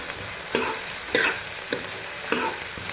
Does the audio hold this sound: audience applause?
no